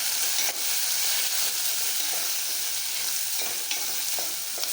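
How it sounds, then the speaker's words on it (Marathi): Spices frying in oil for masala rice, a dense continuous sizzle with occasional stirring clicks from a utensil, close and steady. "हे सगळं फ्राय होऊ द्यायचं आहे तेलात"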